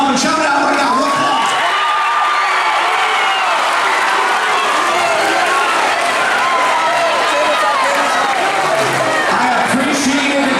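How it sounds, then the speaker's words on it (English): Students in a gym at a school activity day cheer, whoop and shout out club names all at once, a loud, dense, continuous crowd roar of overlapping young voices. "Y'all make some noise for your club and shout it out right now."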